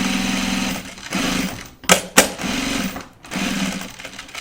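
Close, loud sewing machine stitching a project bag runs in rapid mechanical bursts, breaking off twice around a pair of sharp clacks before resuming its steady chatter.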